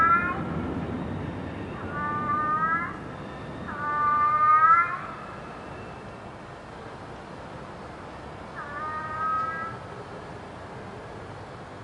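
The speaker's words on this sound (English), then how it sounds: "one pregnant cat to emerge from the shadows and slip into the trap she has set" A cat, reportedly pregnant, meows three times at night, with two drawn-out calls close together and a third after a long pause, each fairly clear over a quiet background hum.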